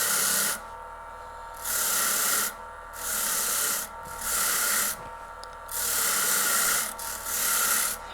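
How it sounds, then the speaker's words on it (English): A Foredom portable micromotor brushing a finish onto the back of a metal piece gives a bright, steady hissing rasp in repeated bursts of about a second, broken by short pauses, close and loud. "I usually give it a quick brush and then I'll put a brushed finish on it"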